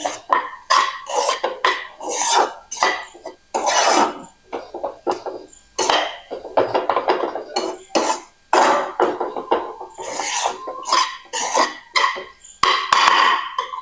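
Coconut laddu mixture worked together by hand in a kitchen, giving close, irregular sticky squishing and rubbing sounds with occasional light knocks, loud and continuous.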